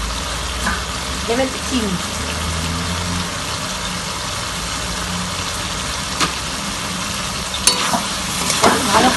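Pumpkin and small fish cook with cumin and chilli powder in a pan, steady sizzling under repeated scraping stirs, with a brief spoken voice near the start and clinks later on.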